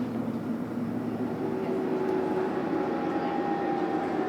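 Heard from on board, a fast London Underground Metropolitan line train runs between Rickmansworth and Chorleywood, a steady low rumble with a faint motor whine that rises in pitch, and no one speaking.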